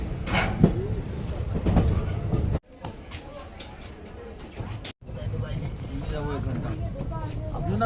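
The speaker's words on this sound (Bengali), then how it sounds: "আপাতত এখন বর্ধমান থেকে সবে ছাড়লো ট্রেনটা" A night passenger train pulls out of Bardhaman station, rumbling and clattering over the rails, with two brief dropouts in the sound and people talking nearby throughout.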